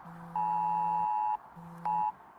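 Phone emergency alert warning of very heavy rain, sounding as loud, steady electronic beep tones: a long tone of about a second, a pause, then a shorter repeat, close and clear with no talk over it.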